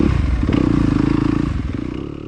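An enduro motorcycle pulls away at a sprint enduro race start on a hot, humid day, its engine loud and close with a rapid pulsing exhaust note that builds and then fades slightly.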